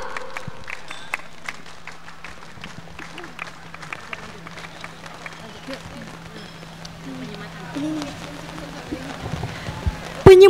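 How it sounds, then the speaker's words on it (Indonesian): A large crowd at the opening of the 2025 West Java regional scout jamboree claps in a scattered, patter-like rhythm through a sound system, with a speaking voice and a steady hum underneath. "2 kali tepuk pramuka"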